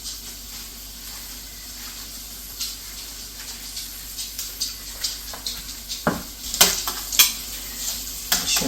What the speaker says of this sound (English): shrimp are cooking nice.